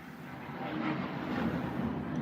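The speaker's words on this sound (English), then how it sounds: "what is going on with these airplanes and stuff flying so low?" Low-flying airplanes pass overhead as a steady, faint broadband roar that swells slightly midway, heard at a distance with no voices.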